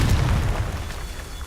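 Confringo fire spell explosion in the Hogwarts Legacy video game: a deep, loud booming blast that rumbles on without a break for the whole moment, with no voices.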